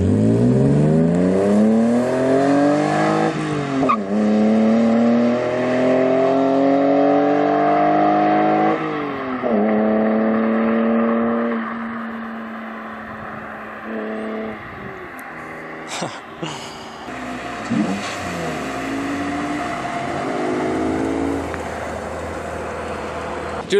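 A car's engine and exhaust rev repeatedly, heard from outside on the street, with rising sweeps that fall back to idle several times, moderately loud with occasional voices and a passing noise around the middle.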